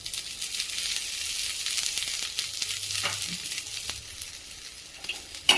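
Onion frying in a small amount of oil sizzles steadily in a pan, a continuous close hiss with faint stirring scrapes and no talking.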